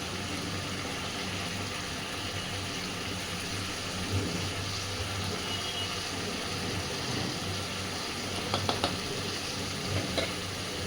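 Fish head and cabbage with sugar and chilli powder being stirred in a pan, a continuous close sizzle with soft scraping strokes of a spoon, no talking.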